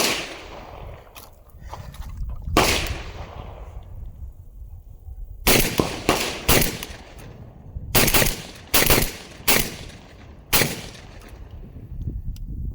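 Shotgun fire from a Mac 1014 and a Beretta 1301 Tactical Mod 2. A single blast comes first, then a later string of loud, sharp reports in quick succession, each with a decaying outdoor tail.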